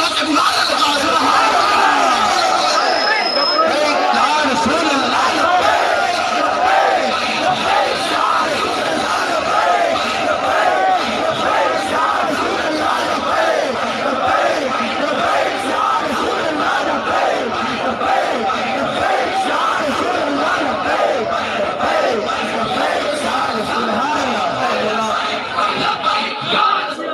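A large crowd at an open-air religious gathering chants Labbaik ya Rasool slogans, a loud, continuous massed roar of voices with rhythmic swells throughout.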